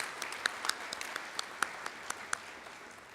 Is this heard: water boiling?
no